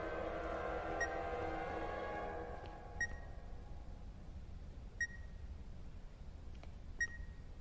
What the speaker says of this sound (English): Wait, that beeping.